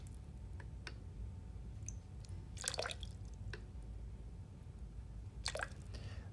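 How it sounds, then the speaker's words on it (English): A lab cuvette is rinsed with calibration solution, giving faint, sparse liquid drips and small clicks scattered over a quiet room hum. "Then rinse the cuvette 3 times using your cal solution."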